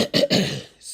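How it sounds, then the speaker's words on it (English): A single short throat-clearing cough, two quick rough bursts close to the microphone, followed by a faint breathy trailing sound. "Excuse my cough."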